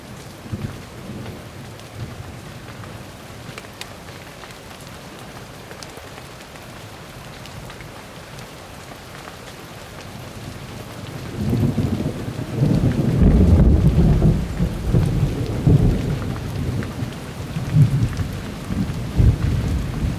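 Hailstorm with thunder: steady patter of hail and rain for several seconds, then a loud, deep thunder rumble swells in and rolls on with heavy low-end weight under the continuing downpour.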